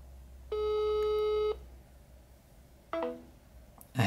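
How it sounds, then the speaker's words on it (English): Phone ringing from an incoming call, heard as a sustained electronic ring tone for about a second followed by a shorter stepped tone burst, with no speech over it. "So if I now call the phone again, it just keeps on ringing"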